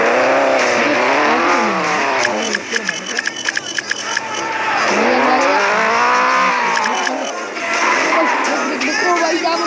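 A car in the Extreme Car Driving video game revs and accelerates with rising and falling engine whine, broken by repeated sharp tire squeals and skids, loud and close, while a voice talks over it.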